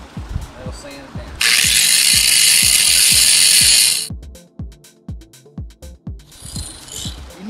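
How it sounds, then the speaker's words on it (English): A small sanding disc grinds down bare metal on a Monte Carlo, Impala, Lumina or Malibu roof, making a loud, close abrasive hiss for about two and a half seconds amid regular clicking knocks before and after. "Just using a sanding disc. Just a little sanding disc. That'll sand it down."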